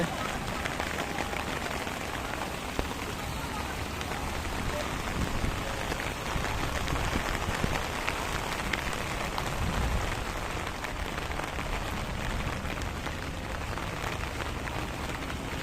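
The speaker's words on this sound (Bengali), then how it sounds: "দেখুন প্রচুর বৃষ্টি।" Heavy rain pours steadily onto a rooftop in Chittagong during a flooding downpour, a dense, continuous hiss and patter that stays loud and even throughout with no talking.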